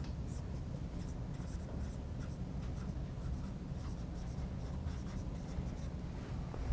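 Chalk or marker writing on a classroom board during a math lecture on inequalities, a faint scratchy tapping of strokes over a steady room hum, with no talk.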